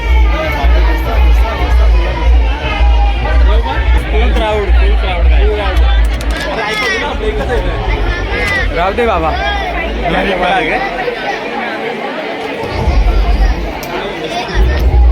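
Dense crowd chatter fills the grounds of the Ekvira temple, a constant loud babble of many overlapping voices with close talk on top, briefly thinning near the end before swelling again.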